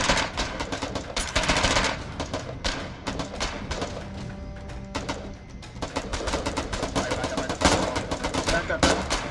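Sustained in-game gunfire from the war game Foxhole, with dense bursts of rapid shots and thuds layered throughout, loud and continuous, with voices talking over the battle noise.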